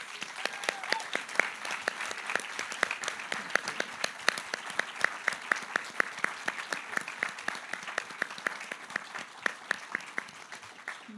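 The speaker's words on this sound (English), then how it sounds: "give a big round of applause for our audience" Audience applause at the BHFF 2025 awards ceremony, a thinner crowd with sharp individual claps standing out in an uneven, continuous patter, fairly close and moderately loud.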